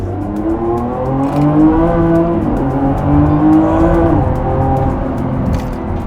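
A car pulls hard under acceleration, with the engine note rising steadily through the gears and holding loud and close from inside the cabin, the revs climbing and dropping at shifts.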